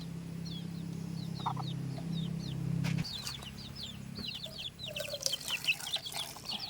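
Backyard chickens cluck and chirp steadily while pecking at feed, with a low hum underneath early on, then busier overlapping clucks and scratching toward the end; no one speaks.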